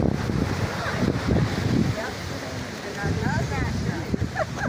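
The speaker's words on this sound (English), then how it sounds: "Very windy today." Strong wind blows at Lake Kivu on the Congo border, a steady rushing roar buffeting the microphone, while people talk nearby throughout.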